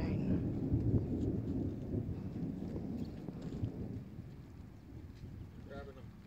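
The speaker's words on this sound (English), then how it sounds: "this will be my first full-on Cali storm. Bring on the rain." A California thunderstorm with thunder rumbling low and rain falling, plus wind buffeting the microphone, steady and moderately faint, with voices briefly heard.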